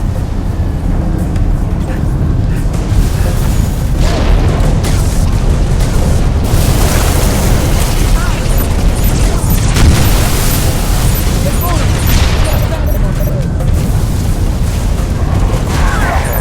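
Continuous Halo Reach battle din with weapon fire and deep explosion booms, dense and loud throughout, with a voice briefly heard in the mix.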